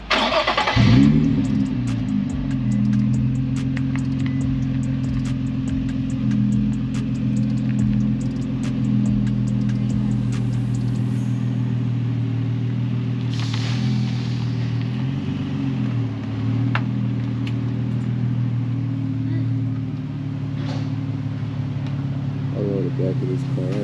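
A BMW G06 engine idles nearby, a steady low hum with a brief rise at the start, then a smooth constant drone while people talk over it.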